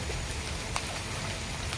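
Heavy rain falls at night over a stream during crab hunting, a steady, close hiss of rain on water and surfaces with an occasional faint tap and no voices.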